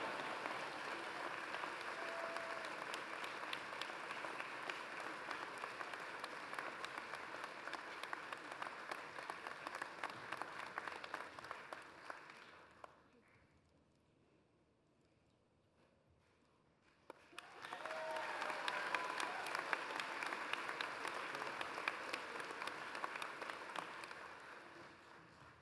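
Broad crowd applause at a college commencement for an award honoree walking to the stage. Dense, steady clapping fills the hall, drops to near silence for a few seconds midway, then surges back just as full.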